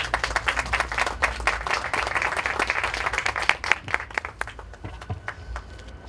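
Lively audience applause at a Catholic round-table event in Peru, dense clapping from many hands sustained for several seconds, then thinning toward the end with scattered claps.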